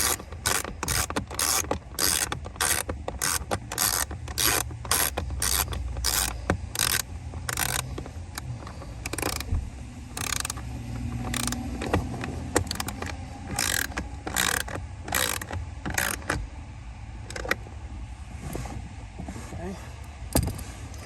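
A ratchet turning the screws on a Honda Accord heater blower motor, with rapid, close clicking bursts repeating throughout and a quieter voice talking between strokes.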